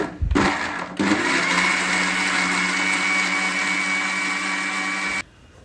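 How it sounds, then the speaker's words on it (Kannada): A kitchen mixie grinds green masala with a little water into a paste, giving a loud, steady whir for about four seconds after a brief clatter at the start, then stops abruptly. "ಇವಾಗ ಮಿಕ್ಸಿ ಮಾಡ್ಕೋಬೇಕು"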